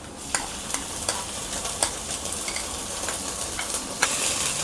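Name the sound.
ground paste being stirred into frying rice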